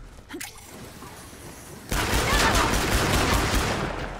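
In the Killing Floor video game, a sudden burst of dense, loud gunfire starts partway through and keeps going, following a few quieter shots and background noise.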